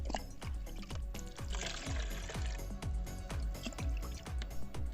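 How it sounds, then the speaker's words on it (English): Liquid fertilizer made from orange and onion peels is diluted with water, heard as a steady series of close, rhythmic liquid plops and splashes about twice per second. "I just going to dilute this liquid fertilizer with 10 glass of water"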